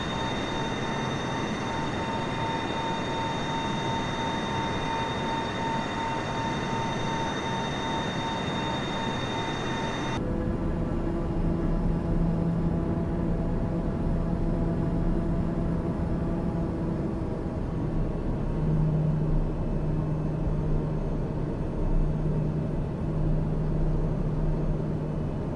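An aircraft engine in Microsoft Flight Simulator drones steadily with a high whine, then shifts partway through to a lower, rougher rumble that keeps going with no talk.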